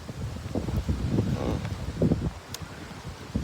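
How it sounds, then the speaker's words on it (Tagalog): Strong, cold gusting wind buffets the microphone at a lakeside trail near Seton Lake outside Whistler, a steady broadband roar with rustling surges throughout and no talk. "Hangin, grabe."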